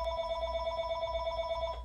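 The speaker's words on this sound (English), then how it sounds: "It's my phone. Who else has a house phone?" A house phone rings with a steady electronic trilling tone that pulses rapidly and evenly, moderately quiet indoors, before cutting off near the end.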